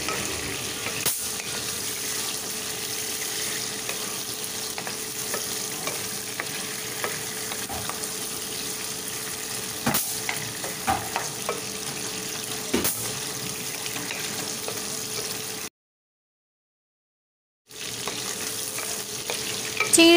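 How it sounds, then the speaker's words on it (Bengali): Prawns fry in a pan for a garlic prawn dish, giving a continuous, even sizzle and crackle that runs steadily throughout, broken only by one brief moment of silence near the end. "দুই তিন মিনিটের মতো চিংড়ি মাছগুলো ভালোভাবে ভেজে নিচ্ছি।"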